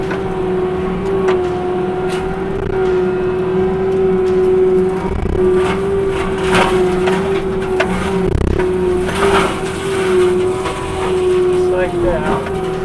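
Tractor-driven disc mulcher running steadily as its cutting wheel is worked into brush, a loud continuous droning hum with occasional knocks and crunches, and someone talking over it.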